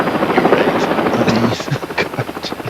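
Helicopter carrying paying passengers at a post-race stock car event, its rotor thumping steadily and loudly nearby, with the beat growing more pulsed toward the end and faint voices in the background.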